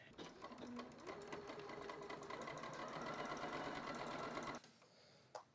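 Sewing machine stitching a bodice seam, joining the unfinished side to the center back, running steadily and close for over four seconds before stopping abruptly, with a brief faint click afterward.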